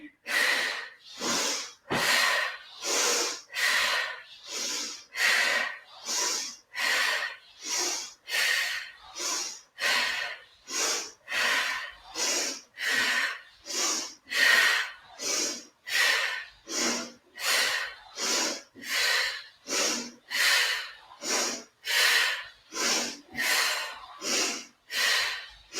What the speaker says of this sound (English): if you guys can tell, I'm definitely breathing